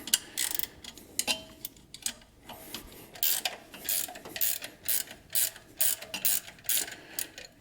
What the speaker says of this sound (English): Go ahead and loosen up this adjustment bolt on the bottom here that puts the tension on the belt.